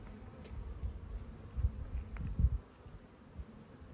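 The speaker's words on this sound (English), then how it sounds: "there's a little old grandma bee" Honeybees hum faintly and closely during a beehive inspection, with a low, uneven buzz and a few louder passes as bees fly near, and no talking.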